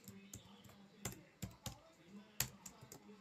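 Keystrokes on a computer keyboard come as a handful of sharp, irregular clicks, close but quiet, with soft murmured speech between them.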